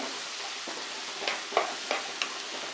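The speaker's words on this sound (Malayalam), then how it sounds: "സവാള നന്നായിട്ട് വഴണ്ട് വന്നിട്ടുണ്ട്" Onions sautéing in hot oil in a pan for a Kerala egg roast, a steady soft sizzle with a few sharper stirring scrapes spaced through the clip.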